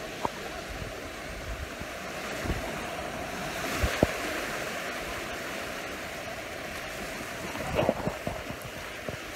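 Ocean waves washing over rocks along the shore at Cerritos in Mazatlan, Mexico, a soft continuous surf wash with occasional splashes and light wind noise, fairly faint and distant with no voices.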